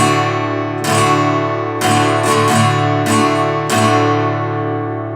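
Acoustic guitar in drop D tuning, strummed chords ringing out with a deep low string, several strokes in an unhurried rhythm with sustained tails between them, close and full with no voices.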